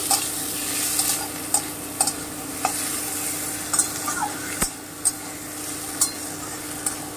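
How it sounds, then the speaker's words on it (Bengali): Tomato frying in a pan with green chilli, giving a soft steady sizzle punctuated by sharp spoon-on-pan scrapes and clinks at irregular intervals as it is stirred, heard close with no talking. "এবারে আমি টমেটোটা দিয়ে দিচ্ছি, দিয়ে আমি একটু ভেজে নেব"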